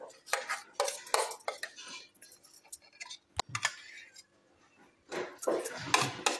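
A spoon stirs yogurt and biryani masala together in a bowl for chicken biryani, giving repeated clinking and scraping bursts, with a pause in the middle before a final flurry of mixing.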